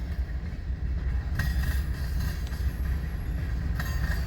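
Freight train cars, including a Western Pacific car, roll past in Fremont, Nebraska, with a loud, steady low rumble and faint rhythmic clicks of wheels over rail joints.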